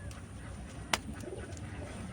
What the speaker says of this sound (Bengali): এইটা একটা কালো দানা মাদি পায়রা